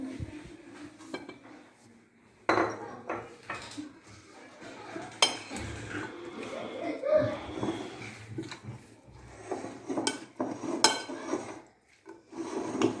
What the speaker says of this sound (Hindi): ये देखें, अब मैं डाल के मिक्स करूंगी।